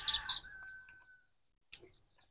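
A few brief chicken clucks and chirps nearby, then quiet, followed by one more short call.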